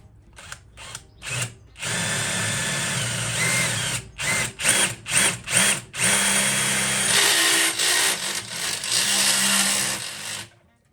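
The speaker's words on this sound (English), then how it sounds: "next job will be to run this drill through here. Hopefully it'll go all the way through." Electric drill boring through the metal of a Skoda Felicia's rear bed, running loud and close in several short bursts, then a long sustained grind that changes pitch as the bit works through.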